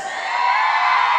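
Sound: women in the crowd shouting loudly

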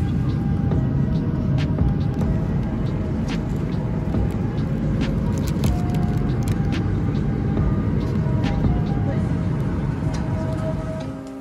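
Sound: airplane landing touchdown

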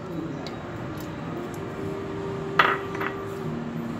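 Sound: pressure cooker handled while Bengal gram is added

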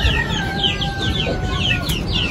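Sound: rooster attacking a hen

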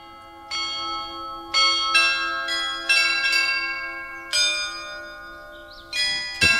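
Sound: Loreta carillon bells playing a Marian hymn

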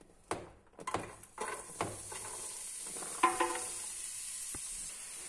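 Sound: diced celery and vegetables frying in olive oil

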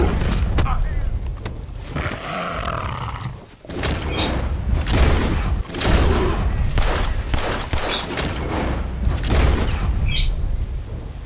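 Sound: gunshots shooting a panther in Red Dead Redemption 2 video game

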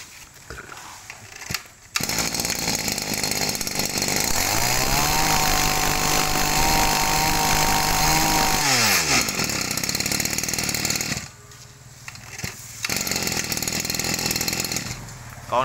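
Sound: Japanese Shindaiwa brush cutter engine running

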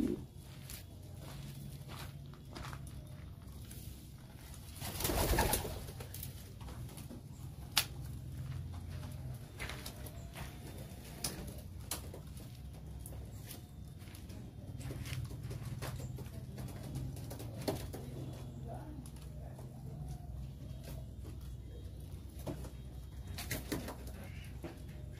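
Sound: pigeons cooing

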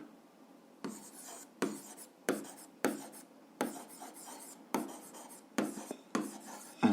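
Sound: writing the equation by hand

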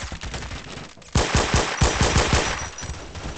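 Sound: gunfire in Phantom Forces video game

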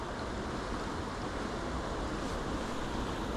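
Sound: swirling floodwater of a river

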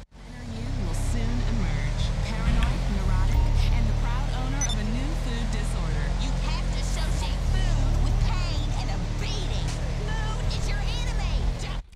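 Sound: Declasse Granger 3600LX SUV engine revving, GTA Online video game

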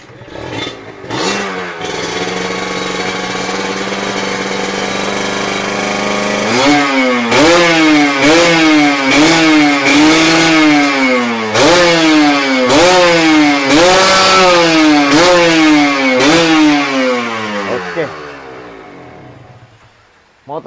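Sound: motorcycle engine revving during sound check

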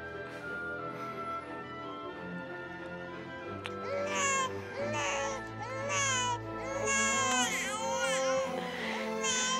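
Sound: baby crying

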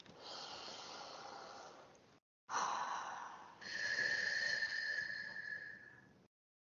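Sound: deep breath during EFT breathing exercise

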